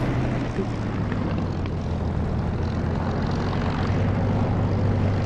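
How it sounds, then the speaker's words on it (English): An aircraft in the DCS flight simulator roars steadily through its takeoff run. The engine drone stays loud and even from start to finish, with a brief voice faint beneath it. "I'm going to take off"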